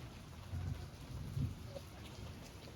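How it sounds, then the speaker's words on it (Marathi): Low, muffled thunder rumbles twice, soft and distant, over a steady hiss of rain. "बघा आवाज आवाज कसं गडगडत आहे"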